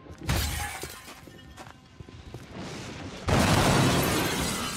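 A train being smashed in the game XCOM: Enemy Within during a Long War mod mission, with sharp shattering impacts and crunching debris, then a loud sustained burst of breaking and crumbling near the end.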